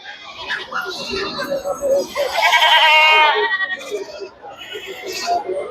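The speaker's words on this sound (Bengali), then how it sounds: "এই পাশে দেখেন প্রচুর সংখ্যক ছাগল বাঁধা হয়ে গেছে" Goats tethered together at a crowded rural livestock market before Eid bleat repeatedly, one long nearby bleat standing out, while people talk throughout.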